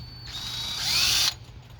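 Power drill with a bent bit whirring on a broken stud of a 1998 Acura Integra, a single loud, close high-pitched spin of just over a second, rising toward the end before it cuts off.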